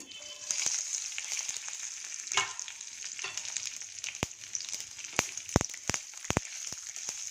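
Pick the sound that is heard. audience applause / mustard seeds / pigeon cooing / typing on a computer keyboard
mustard seeds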